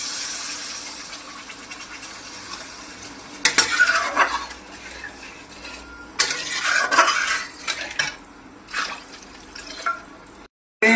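Water is poured into a pan of frying fish curry, where oil has separated from the spices. Bursts of loud hissing and splashing come over a soft sizzle, with scraping and clatter of a utensil stirring.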